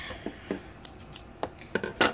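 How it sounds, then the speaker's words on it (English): Scissors cutting open the packaging of a 2002 Toy Biz Leaping Spider-Man figure, a string of about ten crisp, sharp snips at an uneven pace, close and clear with no talking. "Need to grab some scissors."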